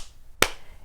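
A single sharp hand clap rings out once, close and crisp, in time with a children's action song, with quiet surroundings before and after.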